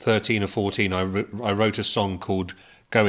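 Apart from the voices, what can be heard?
No everyday noises stand out.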